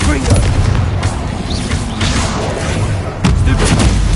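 Fiery Confringo spell blasts in Hogwarts Legacy combat, loud dense booms and crackling bursts that pile up continuously with battle noise throughout, a heavy impact near the end.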